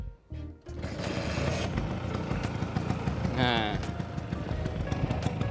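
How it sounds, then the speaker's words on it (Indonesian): A 1970 Vespa Sprint two-stroke scooter engine sputters to life after a brief word, then settles into a steady, rattling idle close by. "ini adalah suara mesinnya ya dari Vespa Sprint tahun 70"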